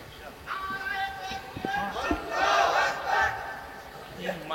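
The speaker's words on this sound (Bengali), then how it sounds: "এটা দিয়ে স্লোগান দেন।" A crowd at an Islamic waz sermon gathering in Bogura, Bangladesh, chants slogans together in loud, swelling waves of massed voices. A lone voice rises briefly ahead of the roar.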